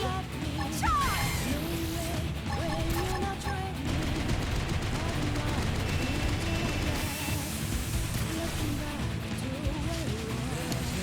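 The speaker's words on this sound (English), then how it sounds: "Launching missile!" During a busy battle in Xenoblade Chronicles X, a missile launches amid scattered gunfire and crashing impacts, with a faint voice now and then over the continuous combat noise.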